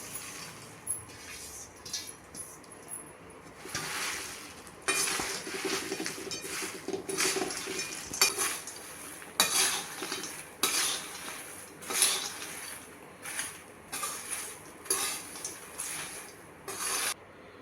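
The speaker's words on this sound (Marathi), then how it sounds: "कॉर्नफ्लेक्स दाणे सगळं घालून आपल्याला मिक्स करायचं आहे" Puffed wheat chivda being tossed with cornflakes and peanuts in a metal vessel: dry rustling and crunchy patter of the snack mix, with clinks and scrapes of a spoon in irregular bursts, close by and without talk.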